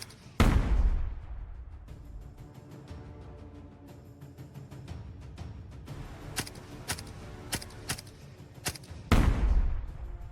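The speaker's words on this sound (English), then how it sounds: "suddenly a Ukrainian soldier rushes out and opens fire from behind" Rifle gunfire from a Ukrainian soldier in a combat trench, with several sharp shots standing out against a continuous rumbling backdrop, plus loud close bursts at the start and end.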